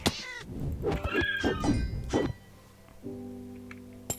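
A game character meows each time it is hit in Minecraft: several clear cat meows in quick succession, followed by a quieter background tone and a brief thunk at the end.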